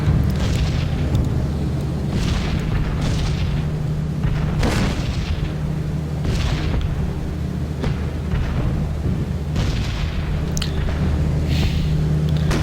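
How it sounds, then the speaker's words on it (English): Flak guns bursting in a B-17 Flying Fortress bomber flight game, a series of loud booming explosions every second or two over a constant low engine drone, with no talking. "One of the worst things you could face. The flak guns."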